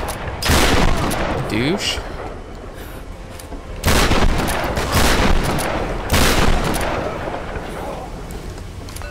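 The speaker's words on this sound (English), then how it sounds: "Who the heck is shooting at me?" Gunfire in Tomb Raider (2013), loud bursts of rapid shots and booms arriving in three separate volleys, with a brief spoken word in between.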